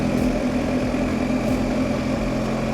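A BMW GS motorcycle engine and exhaust run steadily at idle, a continuous close, even mid-low droning hum with no speech.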